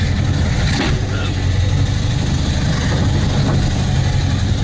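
Engine of a 1974 VW Super Beetle driven with a manual stick shift, a steady rough low rumble that stays close and loud, with road noise mixed in and no speech.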